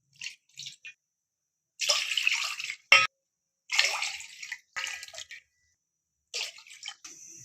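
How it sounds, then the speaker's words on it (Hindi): Water from a tap runs into a pot for Peshawari kahwa in several separate bursts with short pauses between them, close by and fairly loud, with a few faint drips. "पानी डाल लेते हैं।"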